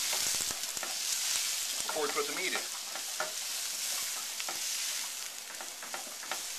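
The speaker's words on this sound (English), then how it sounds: "And you can see it's sizzling right away." Onions and peppers sizzling in a hot frying pan, a loud, steady hiss and crackle with stirring clatter. A voice speaks briefly over the frying.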